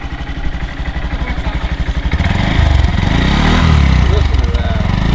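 A 2019 Honda Monkey motorcycle idles with a fast, even putter, then the small engine is revved up to a fuller, louder drone that swells and settles, close by, with voices faintly in the background.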